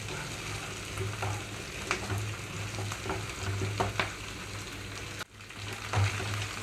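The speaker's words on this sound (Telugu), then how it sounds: "ఇక్కడ నేను మీడియం ఫ్లేమ్లోకి టర్న్ చేసుకున్నాను అడిగంటకుండా వేయించుకుంటూ ఉండాలి" Onions and ginger-garlic paste fry steadily in a pan over a medium flame, a continuous close sizzle with occasional stirring scrapes and clicks, no voices.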